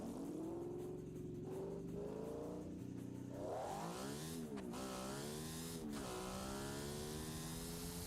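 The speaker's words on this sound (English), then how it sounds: "This is the worst sounding car in the world." A car engine in the BeamNG driving game revs up and down continuously, its pitch rising and dropping through gear-like sweeps with a harsh, buzzy tone.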